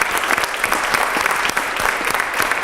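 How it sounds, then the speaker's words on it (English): An audience at a school board meeting applauds the 3rd and 4th grade team, a dense, steady clapping from a roomful of people throughout. "A huge round of applause for the 3rd and 4th grade team."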